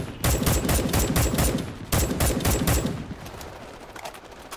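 Rapid bursts of gunfire from a gun in the video game Starship Troopers Extermination, two long rattling volleys of close, loud shots, followed by quieter ambient game sound.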